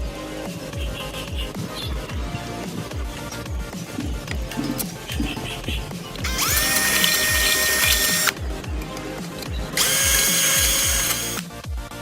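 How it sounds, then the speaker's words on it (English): A power drill bores holes in the metal cavitation plate of a boat's outboard, with rapid rhythmic ticking and clicking followed by two loud, close, high-pitched whining bursts of drilling. "Drill the holes."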